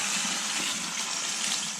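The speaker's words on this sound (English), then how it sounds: "So I'm just going to wash my chard," Tap water runs steadily over chard leaves as they are washed in the kitchen, a close, continuous gushing rush with no talk.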